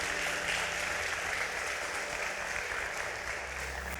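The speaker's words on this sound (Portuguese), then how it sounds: "Pode aplaudir Jesus." Applause from a church congregation during a sermon, a steady dense wash of clapping hands that holds at an even level throughout without pause.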